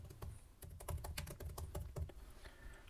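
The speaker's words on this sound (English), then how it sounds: "Here it is, and we're going to type our text." Steady typing on a computer keyboard, with quick, evenly spaced key clicks close up and no talking.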